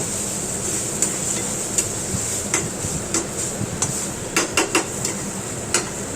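Tomato sauce is stirred in a pan with a utensil, producing repeated light scrapes and clinks of metal against the pan over a steady hiss of cooking in the background.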